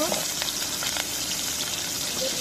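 Chili and onion fry in hot oil in a pan, a steady soft sizzle with a few sharper crackles, heard close up with no talking.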